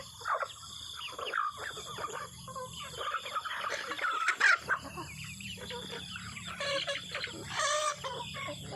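Chickens cluck and squawk in a busy, agitated flock at morning feeding while a dog chases them, with bursts of flapping and louder alarmed calls throughout.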